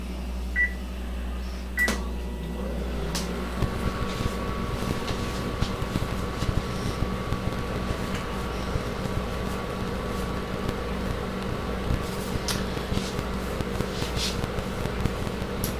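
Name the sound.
microwave oven running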